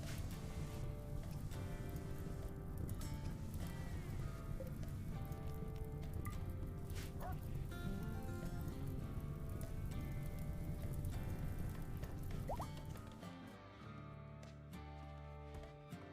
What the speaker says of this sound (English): We're gonna need some rain.